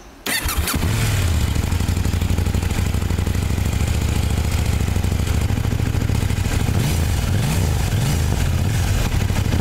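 Kawasaki ZX10R sport motorcycle engine firing up and then running loud and steady close by, with several quick rising revs blipping near the end; no voices.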